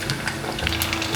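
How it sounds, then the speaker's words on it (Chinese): Wontons deep-frying in hot oil, a dense, steady sizzle and crackle of bubbling fat, close and continuous, with no talk. "把馄饨放进来炸。"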